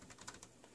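Faint, soft taps on the rubber keyboard of a GRiDPad 2260, a few irregularly spaced muted key presses close by, ending with one slightly sharper click.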